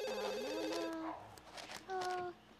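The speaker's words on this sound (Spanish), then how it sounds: "Contesta el teléfono" A telephone rings in The Sims 2 university expansion game, a bright electronic trill heard twice in short bursts with a gap between, mixed with game music and chatter.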